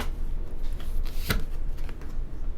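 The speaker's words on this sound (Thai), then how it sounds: "เดี๋ยวขอเปิดไพ่ให้กับชาวเมถุนนะคะ" A deck of tarot cards shuffled and laid out on a table, a soft continuous riffling rustle with one brief sharper slap midway, close and fairly quiet.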